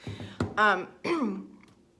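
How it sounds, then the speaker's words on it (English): A few short, throaty coughs and rasping throat sounds come in quick bursts close to the listener, with a brief pause between them. "This one is also making me cough right now"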